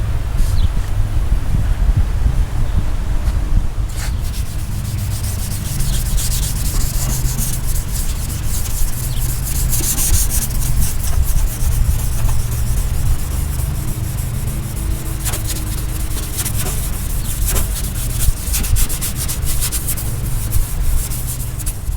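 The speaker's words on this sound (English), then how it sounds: "This after I did it with the Scotch-Brite, scuffed everything up, the surrounding areas" Scotch-Brite pad scuffing the painted bodywork of a box Chevy Caprice LS around a repair area before priming, a steady close abrasive rubbing that runs continuously with no pauses.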